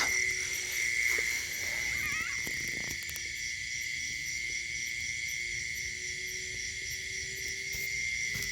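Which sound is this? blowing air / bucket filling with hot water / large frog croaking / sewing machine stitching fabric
large frog croaking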